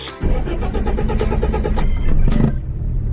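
A vintage JDM car's engine cranks and catches, then idles and revs roughly at close range for a few seconds before settling, with no talking.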